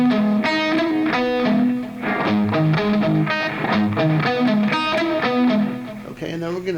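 An electric guitar plays the A-to-F section of a song intro, with clear, evenly picked arpeggiated notes ringing in a steady repeating pattern, heard alone.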